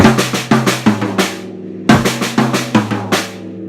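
Quick sequence of tight, close-miked drum strokes in a steady paradiddle pattern, two short phrases separated by a brief pause, each ending with a ringing hit.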